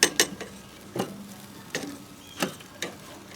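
Hickory smoked chicken wings are turned over on a cooker, with a series of sharp, spaced tong clicks and light clatter over a faint background sizzle.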